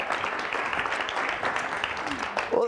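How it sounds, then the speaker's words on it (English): Audience applause for Linda after a demonstration, a dense, moderate wash of clapping filling the whole moment with faint voices underneath. "Give Linda a nice round of applause."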